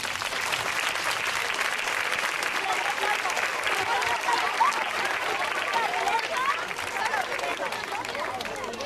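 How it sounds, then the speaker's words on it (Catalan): An audience at a 2013 Verge del Sofratge gathering gives performers a sustained round of applause, dense steady clapping that fills the space from start to finish, with faint crowd murmur mixed in. "Anem a rebre-los amb un fort aplaudiment."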